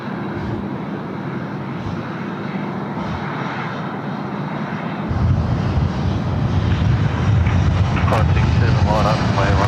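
A Korean Air Boeing 787-10 takes off at Sydney Airport, its engines roaring in a broad, steady rush that swells louder partway through, with wind buffeting the microphone and a voice speaking in the background.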